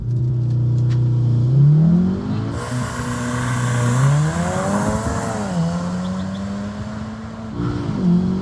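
A tuned VW Golf R with a bigger turbo and a loud aftermarket exhaust launches from about 3,500 rpm. It roars hard through several rising gear pulls with brief dips at the shifts, loud and close, without talk.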